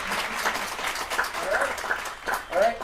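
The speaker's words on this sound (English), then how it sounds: "Can we all give them a round of applause?" Audience applause for the engine voice actors at a 19th birthday party, a short burst of clapping from a small group mixed with chatter and cheering voices.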